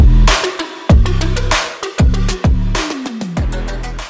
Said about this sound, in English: if you were curious about the exhaust I'm running, it's a custom-made True Dual 3-inch exhaust made by Chi